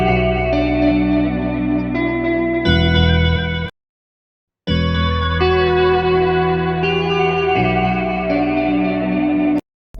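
Valhalla Delay plugin giving a vintage echo to a sustained, chorused synth tone. Repeating notes ring out and trail off, broken by a sudden cut to near silence before the layered sound returns.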